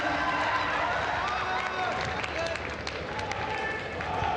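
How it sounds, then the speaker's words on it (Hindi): Applause from a large crowd greets the Prime Minister at a tribal pride day gathering in Dediapada, Gujarat, a steady dense clapping filling the whole stretch with the murmur of the crowd beneath it. "तमाम तालियों से इस क्षण का आनंद लेते हैं।"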